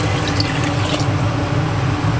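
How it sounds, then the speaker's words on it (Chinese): Clean water pours steadily into a pot of kelp and pork rib soup, a continuous close rushing splash with no pauses and no talking. "略微炒香之后，倒入清水。"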